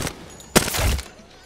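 A short burst of automatic gunfire from an Apex Legends weapon, one loud crack followed by a dense, rattling spray lasting under half a second, fairly close and heard alone without talk.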